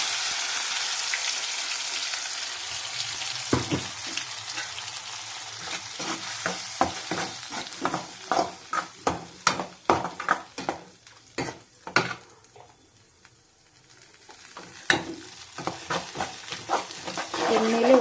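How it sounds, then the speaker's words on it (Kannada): Ground masala paste fries in oil with cumin and curry leaves, crackling and sputtering up close while a spoon stirs in quick repeated scrapes, with a brief lull before the stirring resumes; no talking. "ಎಣ್ಣೆಯಲ್ಲಿ 1-2 ನಿಮಿಷ ಇದನ್ನು ಫ್ರೈ ಮಾಡ್ಕೊಳ್ಳೋಣ."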